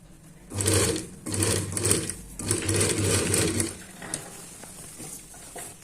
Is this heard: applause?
no